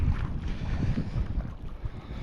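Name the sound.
wind blowing on a lake island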